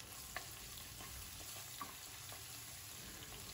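Chickpeas fry in a pan over a low flame with a soft, constant sizzle while a spoon stirs them, giving a few faint scraping taps, close and quiet with no talking.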